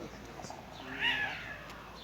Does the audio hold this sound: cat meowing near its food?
yes